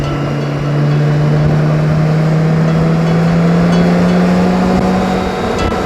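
A BMW K1600 GTL Exclusive motorcycle cruises along a quiet local road, its six-cylinder engine a steady, loud hum with a slowly rising pitch and rushing wind throughout.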